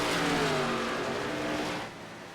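Race cars in a simulator game thunder around an oval at Nashville Superspeedway during a close three-car battle. A loud, steady engine roar with overlapping revs starts close, then drops off sharply near the end.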